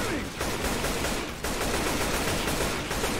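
Continuous rapid gunfire rattles in the Left 4 Dead zombie shooter game, dense and loud throughout with brief dips, no talk over it.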